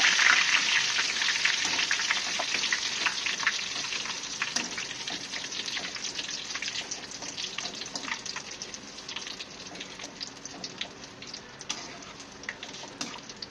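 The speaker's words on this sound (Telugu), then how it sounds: "కరివేపాకు కూడా వేగితే కొంచెం బాగా బ్రౌన్ కలర్, గోల్డ్ కలర్ లాగా వచ్చేలాగా కొంచెం లైట్గా వేయించుకుంటే" Curry leaves frying in hot oil in a pan, a dense steady sizzle with crackling pops, close and fairly loud, with no talking.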